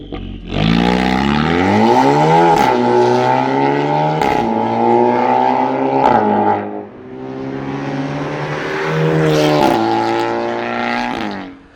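Volkswagen Scirocco with a custom-built exhaust revving hard, engine pitch climbing and falling through repeated loud throttle blips with sharp pops and crackles between them, close and dominant throughout.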